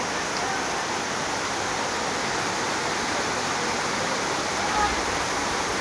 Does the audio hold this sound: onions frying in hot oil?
no